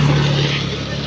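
A motorcycle passing along a road near Sitio Abaca: its engine gives a steady, fairly close droning hum, while people chat over it.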